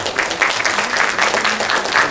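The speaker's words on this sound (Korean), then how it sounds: "박수로 맞이해 주시기 바랍니다" Sustained applause from an audience at a Korean hanok architecture competition awards ceremony, steady and dense throughout as an award presenter is welcomed to the stage.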